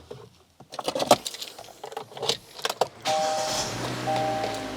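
A Kia Forte engine with a check engine light on cranks and starts after some clicks and handling noises, then settles into a steady, fairly loud idle with a faint tonal whine.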